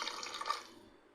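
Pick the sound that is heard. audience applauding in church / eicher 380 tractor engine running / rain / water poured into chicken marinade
water poured into chicken marinade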